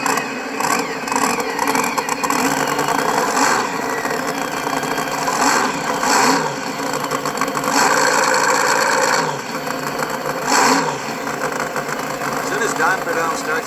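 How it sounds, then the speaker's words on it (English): Engine start and steady idle from a Hot Wheels electronic funny car toy, a Don Prudhomme Barracuda, sounding as a continuous rumbling drag-racing engine under spoken voices. "Don Prudhomme starts his Hot Wheels Barracuda."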